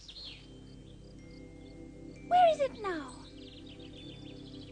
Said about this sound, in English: Hear my favorite bird song somewhere nearby.